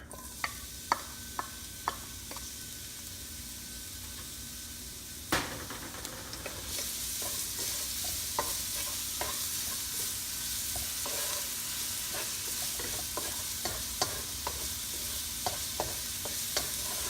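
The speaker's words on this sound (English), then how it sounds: "put some olive oil. Okay. And we'll put our garlic." Garlic frying in olive oil in a pan for frog legs adobo, a steady close sizzle that swells louder midway, with scattered clicks of stirring throughout and no talk.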